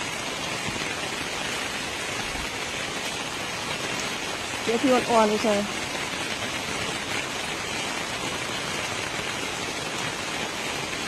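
Steady rain falls throughout, a continuous even hiss outdoors; a voice speaks briefly in the middle.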